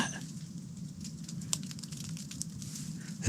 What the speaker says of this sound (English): whatever it is, it's hitting the tent and then just kind of rolling down off the tent. So maybe it's like sleet or ice or something.